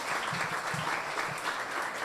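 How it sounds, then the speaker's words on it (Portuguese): An audience claps for a speaker at a congress talk on AI at the Tocantins state court, a steady moderate round of applause from a room-sized crowd, slightly distant. "Vou pedir também mais uma salva de palmas ao nosso palestrante."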